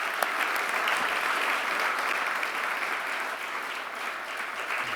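Steady, dense applause from a conference audience fills the whole stretch at an even, sustained level, with no voices over it.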